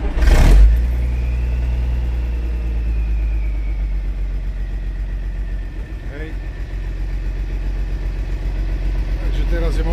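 A cold Zetor ZTS 16245 tractor diesel engine cranks and fires with a loud burst, then settles into a steady, close, low idle. Brief speech is heard over it.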